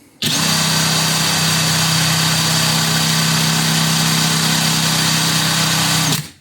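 A SHIDOKU SH G2 cordless 3/4-inch impact wrench spinning unloaded at maximum speed, a loud steady high whine with a strong motor hum that starts abruptly, holds evenly for about six seconds, then cuts off.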